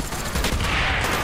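Rapid automatic gunfire in Call of Duty: Black Ops multiplayer on the Nuketown map, a loud, dense burst of overlapping shots filling the whole short stretch.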